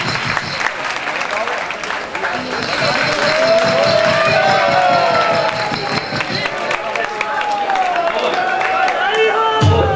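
An audience at a Radha Ashtami festival gathering in Barsana claps loudly and continuously, dense applause with some cheering while voices carry over it.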